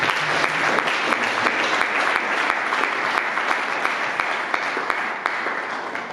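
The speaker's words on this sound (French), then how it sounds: "je vous demanderai encore d'applaudir" An audience at a film presentation at the Institut Français applauds steadily, dense and fairly close, with rapid overlapping claps that hold a constant level throughout before easing slightly at the end.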